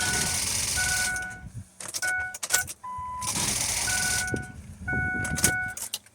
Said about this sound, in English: Let's try and start it without the accessory belt.